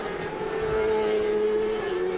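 Racing motorcycles at the 2021 Daytona 200 on the west banking, a steady high engine whine held at speed with a slight pitch shift, continuous and moderately near.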